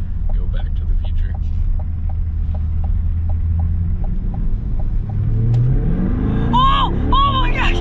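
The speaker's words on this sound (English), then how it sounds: "Oh, you can hear the engine." Chevy Corvette C8 Stingray engine idling with a steady low rumble and regular ticking, then rising into a sharp rev near the end, heard close while people talk over it.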